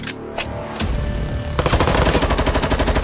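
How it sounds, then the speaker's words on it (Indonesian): A toy gun fires a few separate electronic pops, then a loud, rapid machine-gun style burst of evenly repeating shots close by. "Widih, ini mainan tembak-tembakan."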